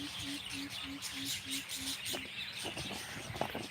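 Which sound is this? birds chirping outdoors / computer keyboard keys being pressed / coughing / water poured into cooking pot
birds chirping outdoors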